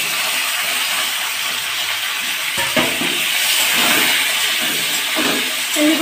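Raw mango pieces hit hot oil tempered with mustard seeds and chilli, giving a loud, continuous hiss of sizzling with a few soft knocks in the pan.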